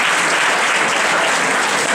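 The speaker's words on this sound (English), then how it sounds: "Come on, claps to this question." An audience at a seminar breaks into steady, dense applause that fills the whole moment, with many hands clapping together and no one speaking over it.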